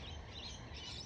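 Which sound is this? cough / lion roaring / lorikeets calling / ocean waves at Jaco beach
lorikeets calling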